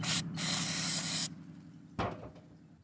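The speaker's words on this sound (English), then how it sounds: "We'll spray our carburetor down real quick." A loud aerosol can hisses in a steady burst for about a second onto a generator carburetor, then a shorter second spray follows after a pause.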